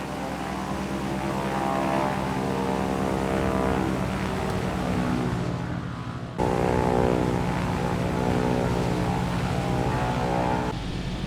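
A bush plane's propeller engine drones steadily in flight in Microsoft Flight Simulator, a loud, even buzzing hum with a brief cut and resumption midway; no talking.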